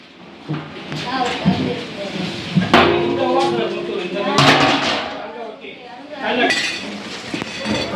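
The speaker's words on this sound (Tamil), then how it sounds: "இப்போ வந்து மூடியை போட்டுடலாம்" Metal clatters and clinks as a lid is set onto a pot of goat biryani, with a few sharp knocks against the rim amid kitchen noise.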